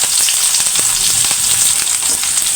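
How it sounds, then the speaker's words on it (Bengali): Chopped onion frying in hot oil in a wok while noodles are being prepared, a loud, bright, crackling sizzle that holds steady throughout, close up, with small pops and no speech. "তারপর আমি পেঁয়াজ কুচি দিয়ে দিচ্ছি,"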